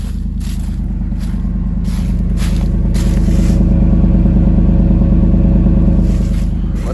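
Up close, a car engine with a broken exhaust idles in a loud, throbbing, low rumble with a steady pulsing beat, and faint rustling or handling noises come through now and then.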